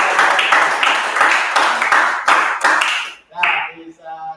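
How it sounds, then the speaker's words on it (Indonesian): A classroom group claps together in a brisk, rhythmic burst of applause, loud and close, ending in a few scattered claps and a short voice. "kita beri tepuk tangan yang meriah"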